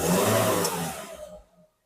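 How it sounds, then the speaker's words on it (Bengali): A Toyota Hiace engine revs under the accelerator with a loud, rushing roar that gradually fades and drops away to silence. "অ্যাক্সেলেটর একটু বাড়িয়ে দাও দেখি কেমন।"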